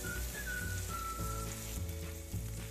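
Pork and shrimp paste sizzle steadily in a pan while being stirred, a constant dense fry noise with a faint thin whistle-like tone running over it.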